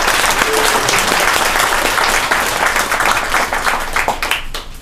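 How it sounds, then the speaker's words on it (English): A luncheon audience gives the restaurant hosts a sustained round of applause, many hands clapping densely and fairly loudly before tapering off toward the end, with faint crowd murmur beneath. "We owe them a big round of applause."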